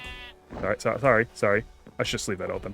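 Sheep in the video game Minecraft give several wavering, nasal bleats in quick succession, close and clear, mixed with someone talking.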